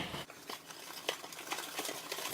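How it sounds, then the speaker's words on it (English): Dry ingredients, including cinnamon and ground nutmeg, whisked together in a big bowl for a gluten-free Irish barmbrack, giving a close, steady patter of rapid scraping strokes with no talking. "Get it in the big bowl and whisk it together so it's thoroughly combined."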